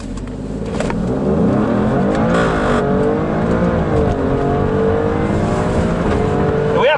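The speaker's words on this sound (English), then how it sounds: "looks like we're up against a very modified Subaru Impreza. That thing, it sounds absolutely insane." A heavily modified Subaru Impreza engine revs hard at racing speed, a loud sustained roar with shifting pitch and gear changes, continuous throughout under road and wind noise.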